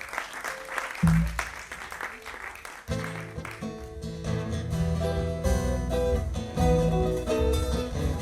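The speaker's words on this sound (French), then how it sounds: "on peut aussi applaudir Okai et son frère" An audience applauds Okai and his brother in a burst of dense clapping over the first few seconds, before loud music takes over and continues to the end.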